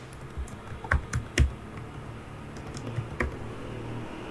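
A password being typed on a computer keyboard, a handful of light, scattered key clicks in a quiet room, spaced irregularly with pauses between them.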